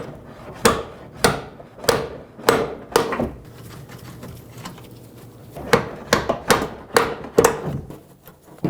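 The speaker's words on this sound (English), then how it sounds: "Let's punch this bolt out." Metal hammer blows punching a bolt out of a front upper control arm on a 2015-2020 GMC Yukon, two runs of sharp ringing strikes in steady rhythm separated by a short lull, close and loud.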